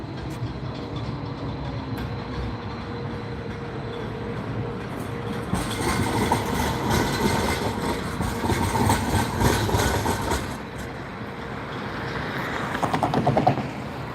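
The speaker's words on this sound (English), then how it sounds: "Got one of the trains coming." A train rumbles past at night with a broad, steady roar that swells midway and carries rhythmic clatter, then eases and rises again toward the end.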